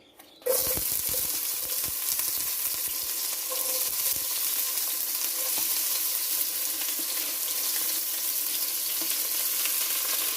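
Peppers, chive, celery, shadow benny, garlic and onion are tossed into a hot pot and break into a loud, steady sizzle that holds evenly, close by and with no talking.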